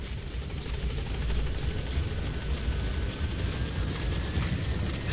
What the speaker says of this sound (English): So let's get our helicopter over here.